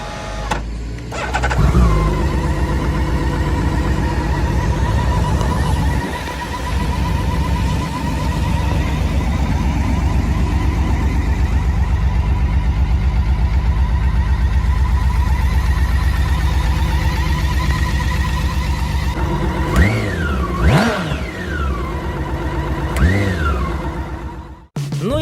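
A Honda Valkyrie Rune cruiser motorcycle, built on the Honda GL1800 Gold Wing, idles and revs with a loud, steady, deep engine drone, swelling in a few rev blips near the end before cutting off, with no talking.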